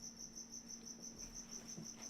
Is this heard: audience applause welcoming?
no